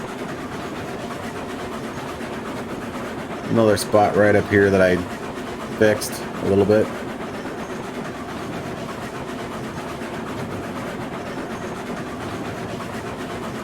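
Train with a caboose rolling along track in RailRoads Online, a steady low rumble running throughout, while someone speaks briefly over it.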